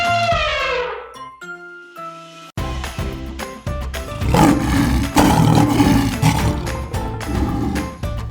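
A lion's roar in a children's animal-learning segment, a loud rough bellow that rises after a short chime and tinkling intro, dense and sustained over several seconds with steady layered music behind it.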